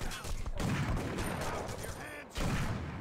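Steady rattling gunfire from the urban shooter game 25 To Life, a sustained loud fusillade that drops briefly before resuming with renewed intensity.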